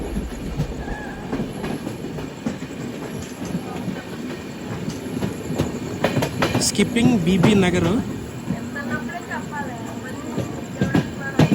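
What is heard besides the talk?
Charlapalli to Kakinada special express train running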